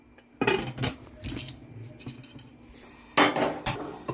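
Lid placed on a cooking pot, heard as two short clusters of metallic clanks and rattles close by, with a few quieter knocks between them.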